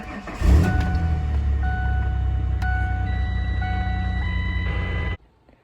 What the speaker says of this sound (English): Next thing to do is just to start up the truck.